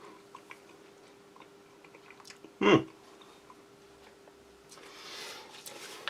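Someone takes a close bite of tinned sardines in tomato sauce from a Portuguese army 24-hour ration, giving one short, loud, wet crunch that stands out against a quiet background.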